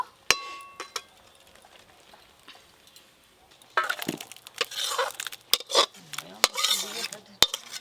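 Thick cooked chana dal being scraped and poured from a pot into a serving dish, sharp clinks of a metal ladle against cookware followed by dense scraping and clattering close by.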